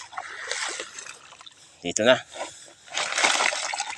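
Water splashes as fish are released from a catch, with brief sloshing bursts mixed among close Filipino speech.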